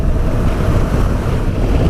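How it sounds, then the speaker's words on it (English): Massive Atlantic waves crash on the shore at the northern tip of Tenerife, a loud, continuous, close roar of surf mixed with wind buffeting the microphone. "these are absolutely massive waves crashing here"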